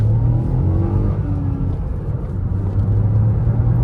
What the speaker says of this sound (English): that is a 1 litre turbocharged engine